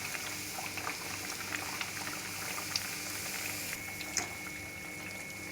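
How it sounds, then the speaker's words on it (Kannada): Rice flour nipattu frying in hot oil over a medium flame, a close, steady bubbling sizzle broken by occasional small pops. "ನೋಡಿ ಇವಾಗ ನಾನು ಮೀಡಿಯಮ್ ಫ್ಲೇಮಲ್ಲಿ ಬೇಯಿಸ್ಕೊಂಡಿದ್ದೀನಿ ನಿಪ್ಪಟ್ಟನ್ನ."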